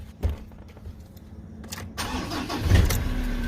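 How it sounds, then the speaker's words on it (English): A Ford Ranger or Mazda BT-50 pickup cranks briefly after a fuel filter change and catches, then settles into a steady, close idle. Faint clicks and key jingles come before the start. "now I'm going to start the car"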